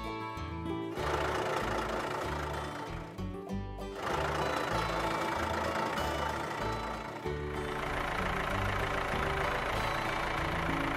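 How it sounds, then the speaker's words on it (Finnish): Toy farm tractor fitted with a loader crane, loading and hauling away large branches, its engine droning steadily and loudly throughout, with brief dips and a few short pauses and no talking. "Traktori, jolla on manipulaattori, lastaa ja vie pois isot oksat."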